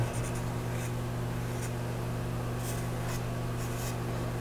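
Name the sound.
pencil drawing circles on a wooden board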